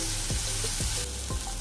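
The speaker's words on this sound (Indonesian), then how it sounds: "Goreng sekejap rempah ini. Dia ada sedikit garing." Spices for a beef kurma fry in a pan, a close, continuous crackling sizzle with a few soft scraping stirs breaking through at intervals.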